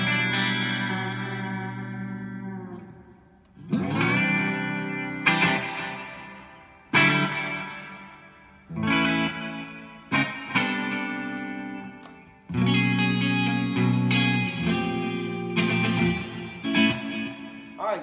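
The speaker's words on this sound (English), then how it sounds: "here's a super, like an arena reverb" Electric guitar chords through a Blackstar HT Club 40 amp with an arena reverb effect ring out one after another, each swelling into a long, spacious reverb tail that lingers between strums.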